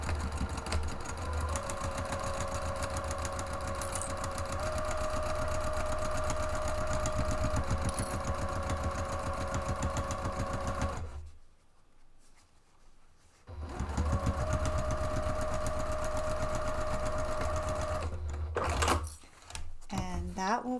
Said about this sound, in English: I am going to stitch right across that and join those 2 panels using 5/8 of an inch seam allowance